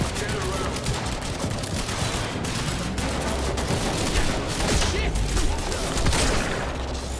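Dense, continuous automatic gunfire from a firefight in the video game Quantum Break rattles without pause at a steady, loud level throughout.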